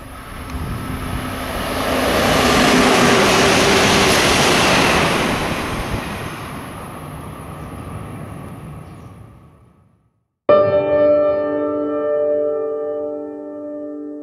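A train rushes past nearby as a broad, loud roar that swells and fades over about ten seconds before cutting off abruptly into quieter tonal sound.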